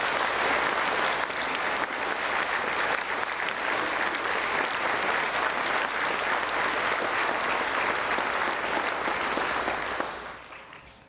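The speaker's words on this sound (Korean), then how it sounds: "이왕 박수 치는 거 우리 대통령님과 김건희 여사님께 다시 한번 박수" Audience at a national prayer breakfast applauds the president and first lady, a sustained, full round of clapping from a large crowd that holds steady for about ten seconds before tapering off at the end.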